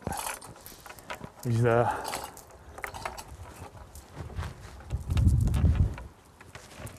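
A clamp is cranked tight on a flat-faced wood joint, with short ratcheting, creaking bursts of mechanical clicks between pauses, close by, while a person speaks briefly.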